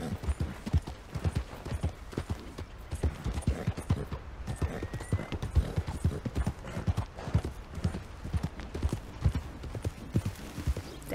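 Rapid clip-clop of horse hooves galloping in Red Dead Redemption 2, in a steady rhythm, fairly close, with occasional snorts and faint background noise.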